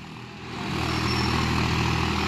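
A Swaraj 4x4 tractor engine running steadily, a loud low droning rumble that swells up in the first half-second and then holds evenly, close by, with no talk over it.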